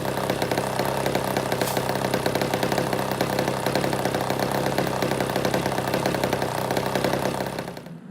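A Webra 91 two-stroke glow engine on a Christen Eagle model airplane runs steadily at a low, puttering idle, a loud buzzing drone that holds for several seconds before dropping off sharply at the end.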